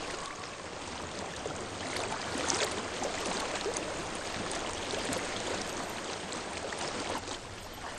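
A flowing stream in Hellblade: Senua's Sacrifice, a steady broadband rush of running water that stays even and unbroken throughout, moderately close with no voices.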